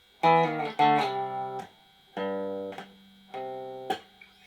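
A few clean guitar notes picked in a simple repeating riff, each note ringing out briefly with short gaps between, played alone.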